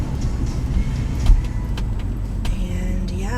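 Road traffic heard from inside a car, a steady low engine and tyre rumble with passing vehicle swooshes and a few faint clicks and knocks.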